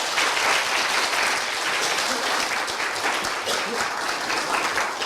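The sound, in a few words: audience applause at concert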